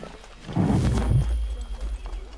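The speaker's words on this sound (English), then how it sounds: "Calm down, horse!" A horse in Assassin's Creed 3 gives a short snorting whinny over hoof clops, fairly close, with no talking.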